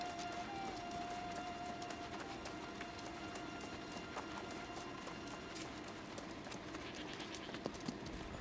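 Hooves of a goat running in the fantasy game New World: Aeternum, a string of light clattering steps scattered over a dense, steady wash of game ambience.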